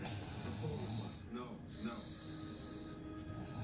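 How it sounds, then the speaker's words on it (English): A man snores in his sleep, low rattling breaths with a rough, drawn-out quality, quiet and close, set against a steady background hum with faint voices. "Y'all hear him snoring?"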